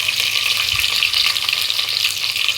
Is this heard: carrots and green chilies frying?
yes